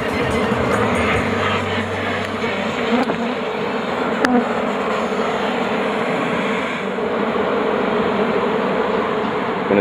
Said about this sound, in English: So let's go ahead and get them buzzing even more.